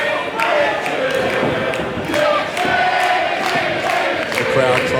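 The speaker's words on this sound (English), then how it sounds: "The crowd trying to will Mitch Waterman back into this match" Spectators at a live professional wrestling event cheer and roar steadily, a dense crowd sound that swells and dips, with scattered claps and thuds throughout.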